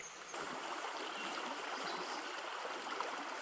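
A small, wild forest stream about a metre wide flows on in a steady, soft rush of water, faint and continuous throughout, with no voices.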